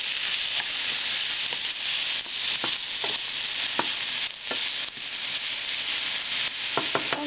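Potatoes fry in oil with a steady, close broadband sizzle that holds throughout, broken by scattered light pops and clicks from the pan.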